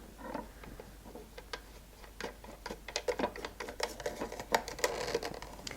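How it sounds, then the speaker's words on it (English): A lock nut is turned onto a threaded rod to secure a cake frame platform, producing close, quiet clusters of small metallic clicks and ratcheting ticks that grow busier toward the end. "now place my platform on top using a lock nut"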